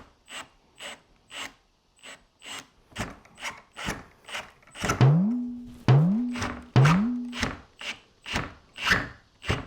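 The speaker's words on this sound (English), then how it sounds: "So I'm going over them with this grinding stone." A handheld grinding stone rubs over rough concrete planter sides in rhythmic back-and-forth strokes, close and loud, with a few squeaky scraping passes partway through.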